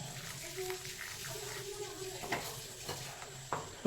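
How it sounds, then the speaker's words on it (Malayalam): A spoon stirs coconut oil and vinegar into a coconut-shoot pickle, giving soft wet scraping and sloshing with a few light clinks against the container, fairly quiet and close, with no one speaking. "നന്നായി മിക്സ് ചെയ്ത് വെക്കാം നമുക്ക്"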